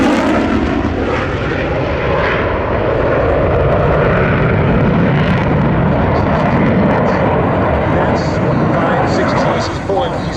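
US Navy EA-18G Growler jet making a legacy flight over Whidbey Island alongside an F4U-4 Corsair, a loud continuous engine roar filling the whole stretch with no pauses.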